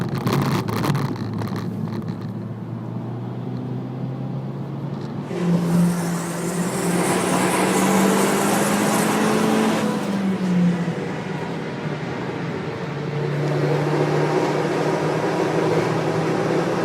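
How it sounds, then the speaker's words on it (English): A 400 horsepower Audi RS drives the Nürburgring Nordschleife, its engine note holding steady tones that rise and fall as it pulls through gears, loud and continuous with shifting pitch. "So we're catching another 400 horsepower car, a lovely Audi RS."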